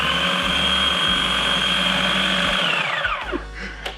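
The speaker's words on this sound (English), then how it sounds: "with our food processor, give it a little bit of a buzz together" A food processor whirs loud and steady as it blends starchy potato dough with butter, then winds down with a falling pitch and a few clunks as it stops.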